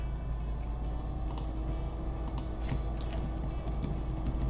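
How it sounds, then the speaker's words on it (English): Rapid clicking of a computer keyboard as someone types, light irregular keystrokes close by over a steady background hum. "I'm going to type in here"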